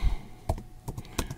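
Four or five separate key taps on an iPad keyboard come fairly close and sharp at an uneven pace, with no talking.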